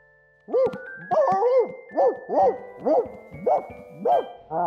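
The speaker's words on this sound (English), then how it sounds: "The bark stopped." A cartoon dog barks six times in a steady rhythm, each bark bright and close, with a faint jingling tone running under it and no talk.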